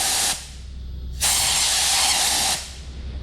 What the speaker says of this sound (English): get an airline and go across the top, that should suck some fluid out